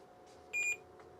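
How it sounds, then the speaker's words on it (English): Atari MEGA ST computer powering up gives a short, clear electronic beep near the middle, with a faint fan hum behind it. "We got a couple beeps."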